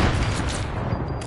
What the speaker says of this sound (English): Is that you shooting with a hand cannon?